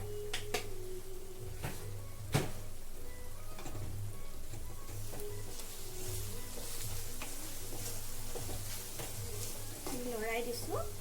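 Mango pickle made with jaggery and spices stirred and cooking in a pan over a low gas flame, a steady sizzle with scraping stir strokes and a few sharp clacks of the spoon against the pan.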